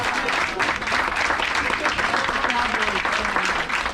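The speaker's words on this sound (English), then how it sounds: "A big round of applause, ladies and gentlemen." Steady audience applause aboard a Viking cruise ship, a continuous moderate clatter of many hands clapping for a few seconds without a break.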